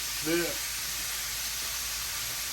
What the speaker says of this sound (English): Shrimp, especially fresh shrimp, cook real fast.